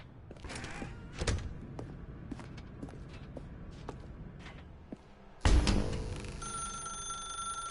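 A telephone rings in the office setting of the video game The Stanley Parable, its bright electronic ring starting suddenly partway through and continuing, after soft footsteps and thuds in a quiet room.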